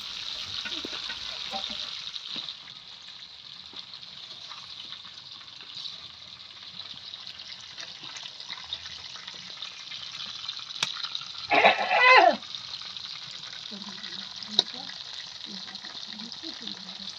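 Hilsa fish curry simmers in oil and gravy on a clay stove outdoors in a village, giving a soft, steady sizzle with a brief louder burst of bubbling and stirring partway through.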